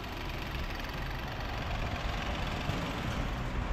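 A 2017 Hyundai Grandeur engine with an oil warning light idles steadily with a low rumbling drone and a slightly rough, noisy texture, running continuously with no voices.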